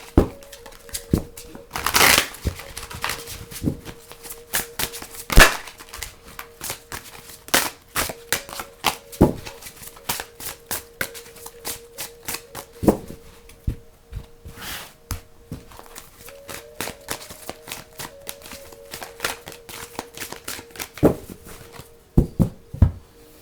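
Archangel Power Tarot cards are handled and shuffled close up, with irregular sharp snaps and riffling clicks scattered over a quiet background, repeating in uneven bursts.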